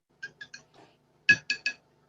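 A spoon clinks against a glass of water while stirring, three light taps, a soft scrape, then three louder, ringing clinks in quick rhythm.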